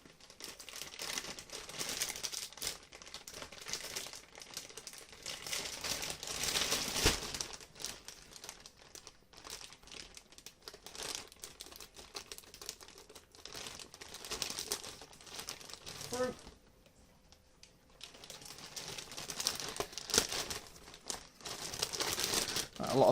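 An Evangelion Unit 01 Ichibansho figure is unpacked from a plastic bag and heavy cardboard packaging, giving close crinkling, rustling and tearing in irregular bursts with quieter pauses.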